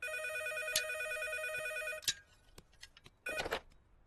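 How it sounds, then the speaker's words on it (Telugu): A telephone bell rings in a room during a Telugu comedy film scene, with a couple of loud electronic rings followed by clatters, clicks and a burst of handling noise. "ఈసారి ఫోన్ మోగుతుంది మన రూమ్ లోనే"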